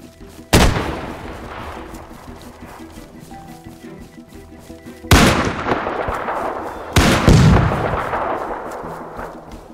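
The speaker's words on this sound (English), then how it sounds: "what the hell is that gun? My ears are getting destroyed right now" Gunfire in the survival video game DayZ: three loud, sharp blasts with long rumbling echoes tailing off after each, heavy and booming, with faint low talk in the background.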